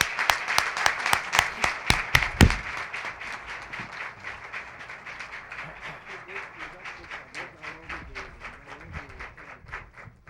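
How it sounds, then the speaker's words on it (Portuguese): Clapping at a formal solemn session of a legislative assembly for Radio Amateur Day starts as a few sharp, sparse claps and then grows into steady rhythmic applause from the audience that gradually softens. "eu solicito a salva de palmas"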